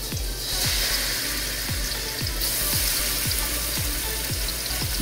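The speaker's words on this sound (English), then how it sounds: "We add 2 tablespoons of coconut oil. We're gonna fry on a very high heat just for 2 minutes." Beef sizzling hard in a wok of hot coconut oil over high heat, a steady, loud frying hiss with faint clinks of stirring, and no talking.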